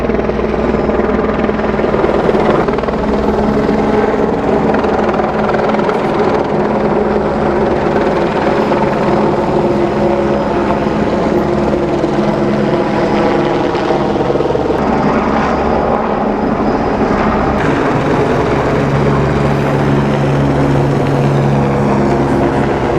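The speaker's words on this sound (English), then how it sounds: "a helicopter swirling around taking photographs" Helicopter with a front-mounted camera circling over a Batman film set near the Royal Liver Building in Liverpool, a continuous loud rotor drone with slowly shifting pitch as it swings around, no talk.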